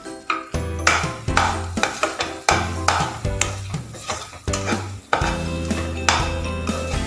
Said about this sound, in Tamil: மிக்ஸ் பண்ண போகிறோம்.